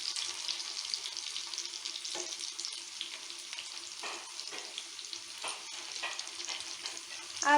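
Chicken kebabs frying in a pan, a steady close sizzle with occasional scrapes and soft knocks as the pieces are turned, no voices.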